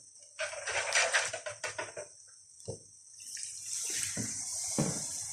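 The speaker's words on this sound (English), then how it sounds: "Now we're going to add some milk to it." Milk is poured into a pale blonde roux in a pan, giving a splashy, gurgling pour with a few short bursts, then a longer steady stream, close up and alone.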